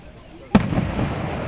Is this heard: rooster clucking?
no